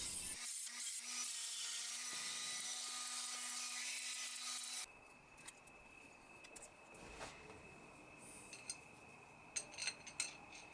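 CNC mill with a 3mm end mill cutting down a steel shaft key: a steady high-pitched grinding whine that gives way to a quieter machine hum with light scraping and ticks, faint and close.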